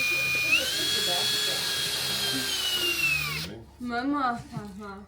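A cordless power screwdriver drives a screw at a workshop session in a care centre, its motor whining steadily and climbing in pitch for about three seconds before stopping, followed by people talking nearby.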